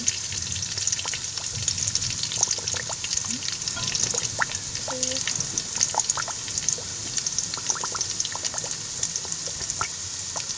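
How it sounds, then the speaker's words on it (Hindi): Moong dal frying in a pan with steady, continuous sizzling and crackle throughout, with occasional stirring, close and fairly loud, with no talking. "अभी मूंग की दाल तैयार कर रहे हैं।"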